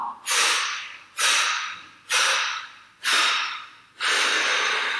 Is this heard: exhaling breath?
yes